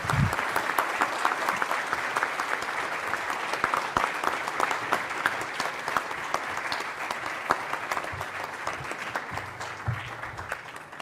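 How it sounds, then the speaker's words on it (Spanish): An audience at a public works dispute-resolution conference applauds an engineer, producing a long, even burst of many hands clapping at moderate loudness, with a few low voices underneath. "Un aplauso al ingeniero José Luis Nava."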